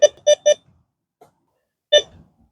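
A handheld metal detector gives three quick beeps in a row, then a single beep after a pause, close and clear over an otherwise quiet yard.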